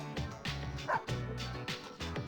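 Dogs barking and whimpering in Persona 3 Portable, several close, loud yips and whines in quick succession with no talk.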